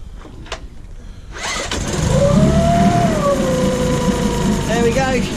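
A small outboard engine catches after a pull-start and settles into a loud, steady running drone, with a voice briefly audible over it.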